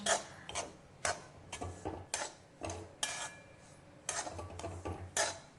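Semolina roasting in ghee in a pan while a spoon stirs it, giving repeated scraping and clinking strokes against the metal at an uneven rhythm, close and fairly quiet, with no one talking.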